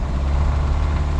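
The turbocharged engine of a 2026 Kia K4 GT Line hatchback drones steadily at raised revs as the brake is held and the accelerator floored, a low, close, continuous hum.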